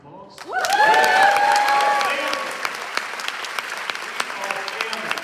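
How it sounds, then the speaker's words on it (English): Audience applause and cheering at a conference keynote break out together, loud at first and then settling into steady clapping that continues to the end. "Make it a round of applause."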